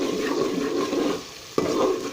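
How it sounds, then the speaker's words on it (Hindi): Water is poured into a pot of frying chana dal, a steady sizzle and stirring that briefly drops, then flares again with a sharp hiss. "अब हम इसमें थोड़ा पानी शामिल कर लेते हैं"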